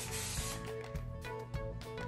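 Several short hissing bursts of hairspray on curly hair, close and rhythmic, sprayed in quick pulses over a soft background hum.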